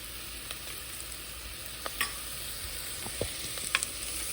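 Tamarind going into a simmering pot of rice, lentils and vegetables, with a soft, continuous sizzle and bubbling under faint scrapes and clicks of a spoon stirring, quiet and close.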